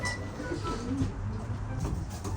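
Racing pigeons coo in a steady low murmur, several birds overlapping close by, a continuous soft rolling coo with no talk.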